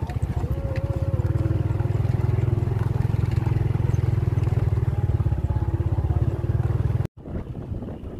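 A motor aboard a mud-pumping boat on the Lapindo mudflow chugs in a steady, throbbing low rhythm for several seconds, loud and fairly close, with wind buffeting the microphone before the sound cuts out abruptly.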